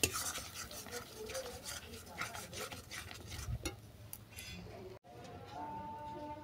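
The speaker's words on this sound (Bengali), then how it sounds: "এরপর এটাকে ভালো করে কষিয়ে নেব যতক্ষণ না ভর্তা থেকে তেল ছাড়ছে" A spoon stirs and scrapes mashed bharta with salt as it fries in a pan, making soft steady rubbing and scraping strokes with faint clinks, quiet and close.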